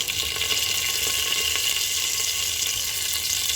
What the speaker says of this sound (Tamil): குக்கரில் எண்ணெய் சூடாயிடுச்சு அதில் வந்து கடுகு கடலப்பருப்பு சீரகம்